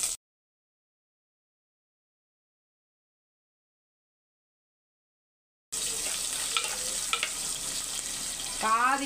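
Mustard seeds, fenugreek, cumin, green chilies and curry leaves frying in hot oil, a sharp sizzle that bursts in after a long silence, with popping crackles and stirring scrapes continuing close.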